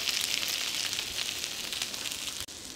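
An egg and ham frying together in a pan for a keto Korean breakfast sandwich, giving a close, steady, bright sizzle throughout that is briefly cut off near the end.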